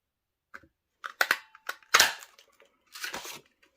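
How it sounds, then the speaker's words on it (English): Paper punch pressing through stamped cardstock, a few sharp clicks and crunches in quick succession, close and fairly quiet against silence, with no talk. "And then let's go ahead and punch this out."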